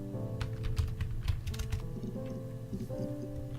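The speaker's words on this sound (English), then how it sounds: "Trying to figure out what to type in." Computer keyboard typing in a quiet room, scattered light key clicks in irregular bursts over a low steady hum, soft and close.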